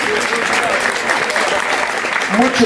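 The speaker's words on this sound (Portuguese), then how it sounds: "Palmas." Loud crowd applause and cheering fill a Brazilian rap battle, a drill and Detroit speedflow semifinal, dense and steady throughout with a brief tonal voice rising near the end.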